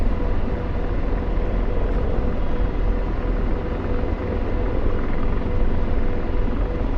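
Apache attack helicopter in the DCS flight simulator, a steady broadband rotor and turbine roar holding constant and fairly loud throughout with no talk.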